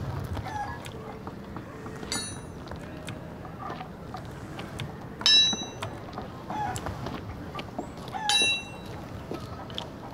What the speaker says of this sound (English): Oh, I scared a chicken away.